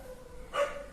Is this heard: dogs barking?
yes